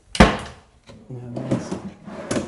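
Wooden drawers in a compact apartment storage wall slide and knock shut, a sharp thump followed by softer rolling and closing sounds close by.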